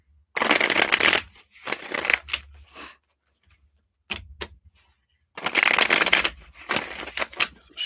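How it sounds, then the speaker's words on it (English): A deck of cards is shuffled in several close bursts of crisp riffling and flapping, separated by short silent pauses. "There's a shuffle to stack number 2."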